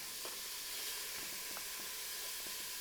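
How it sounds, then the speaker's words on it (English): Ground beef sizzles in an Instant Pot on the sauté setting: a steady, close broadband hiss with faint crackles running evenly throughout, no voices. "once it gets hot, I'm going to add 1 pound of ground beef"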